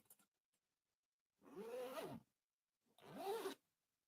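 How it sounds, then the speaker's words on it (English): Two quick zips of a luggage zipper, each about half a second long with a short pause between, close and crisp against silence. "Zippers should be of good quality as well."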